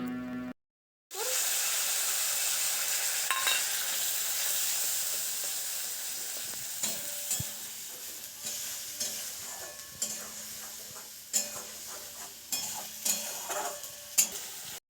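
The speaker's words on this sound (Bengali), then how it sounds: "মশলাটা ভাজতে কিন্তু অনেকটা সময় লাগে" Spice paste frying in oil in a wok with five-spice seasoning, a steady loud sizzle after a brief silent gap, with occasional stirring clinks and scrapes against the pan.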